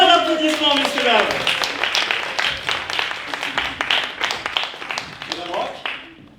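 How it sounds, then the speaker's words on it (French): Studio audience applause for a guest on a French comedy show, steady clapping with a host speaking loudly over it before it fades out. "Un tonnerre d'applaudissements, messieurs, dames."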